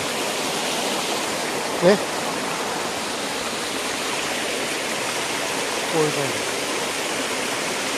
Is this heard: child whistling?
no